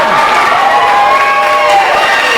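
Wrestling crowd at a UWA Elite Brawl event cheering and shouting steadily after a three-man team is eliminated, a loud continuous roar with whistles and high voices layered through it.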